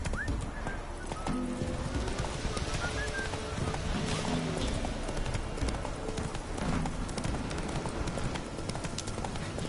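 Roach, the horse in The Witcher 3, gallops with steady clip-clop hoofbeats and occasional whinnies over a busy game soundscape of ambient noise, filling the whole stretch at a constant level.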